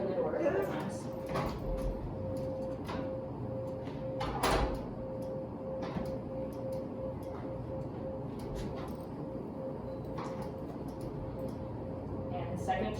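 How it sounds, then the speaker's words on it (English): A door is opened and closed repeatedly during service dog training indoors, giving a series of knocks, latch clicks and rattles spread over several seconds against a continuous low background hum. "you open the door a couple times"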